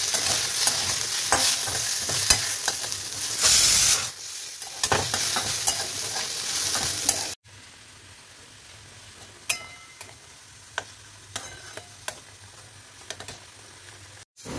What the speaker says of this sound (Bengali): এই যে এবারে খুব অল্প তেলে এই দুটো বেগুন ভেজে নিচ্ছি।